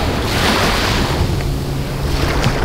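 Ocean waves wash steadily onto a beach at Baler, a loud continuous surf roar with wind noise across the microphone and no voices.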